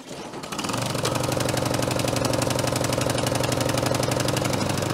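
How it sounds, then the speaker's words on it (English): A DR wheeled string trimmer's small engine catches after a brief start, then settles into a loud, steady idle with a fast mechanical chug, close by and alone for the rest of the clip. "DR wheel trimmer up then."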